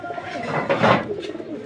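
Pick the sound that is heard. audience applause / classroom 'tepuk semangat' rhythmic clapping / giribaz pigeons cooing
giribaz pigeons cooing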